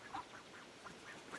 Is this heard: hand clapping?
no